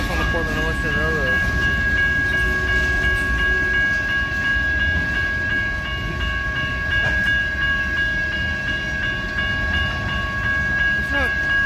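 A train on the Portland and Western Railroad near Wilsonville, Oregon, with a loud steady rumble of cars rolling past and a sustained horn-like tone, while a person talks nearby.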